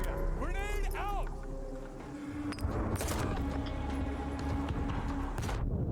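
Gunfire cracks and a grenade blast from a rooftop firefight in the shooter Stalker 2, several sharp reports around the three-second mark over rumbling ambience, with a player's voice and whooping tones early on.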